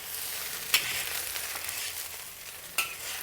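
Prawns fry in a hot pan for garlic shrimp fried rice, a bright continuous sizzle broken by two sharp scrapes of the spatula as they are stirred, close by and with no talking.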